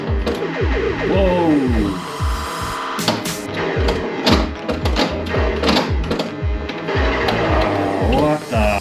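Pinball machine in play at a museum, a busy mechanical clatter of rattling flippers, bumper knocks and whirring electronic game tones with rising and falling sweeps, loud and close, with a short excited exclamation from a player.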